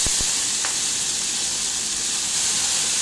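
Green turkey berries (sundakkai) sizzle steadily in a hot oiled pan with a small piece of asafoetida, a constant close frying hiss with no voices.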